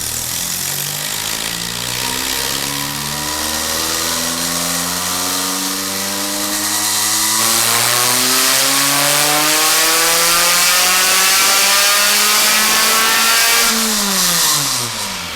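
A methanol-fuelled racing engine revs up and holds a high, loud whine, then drops back down at the end, close by and with no talk over it.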